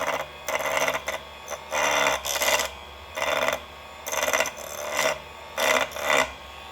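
GPU water block mounting parts being ground down to an equal height with a rotary tool: repeated short bursts of harsh grinding and rasping, close and fairly loud, separated by brief pauses, with no speech.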